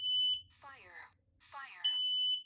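A combined smoke and carbon monoxide alarm in a house basement hallway sounds during a test, giving a loud steady beep at the start and again at the end. A recorded voice warning speaks in between.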